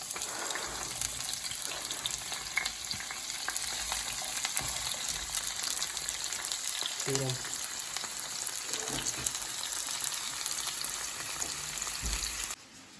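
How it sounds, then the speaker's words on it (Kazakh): Steady broadband sizzle of onion and sweet rice frying in hot oil, with a few faint clinks of stirring, continuous until it cuts off near the end. "Осы екеуін қыздырылған майға қуырамыз."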